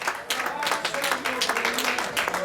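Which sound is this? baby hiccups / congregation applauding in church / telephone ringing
congregation applauding in church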